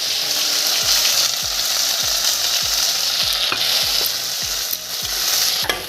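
Masala spices frying with onions in a pan for Tengamora fish curry, a steady loud sizzle under repeated scraping stirs that come in a regular rhythm.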